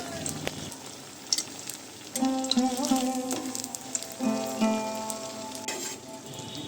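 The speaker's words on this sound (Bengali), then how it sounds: "ওর মধ্যে পনিরগুলোকে ডুবিয়ে নিয়ে ছাঁকা তেলে ভেজে নিচ্ছি" Paneer pieces coated in a salted, garam-masala batter deep-frying in hot oil, a steady close sizzle and crackle with surges as pieces go in, no talk.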